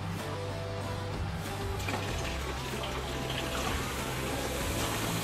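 A steady mechanical hum of an FPH2-32 intelligent inverter water booster pump runs with rushing water noise, continuous and fairly close, with no voices.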